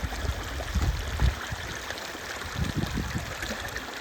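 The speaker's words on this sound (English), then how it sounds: "Instead of a lake, there's a pretty strong creek running through here." A fairly strong creek runs through an outdoor spot that was once a lake, giving a steady, close rushing and trickling wash of water with a few low gurgling surges and no talk.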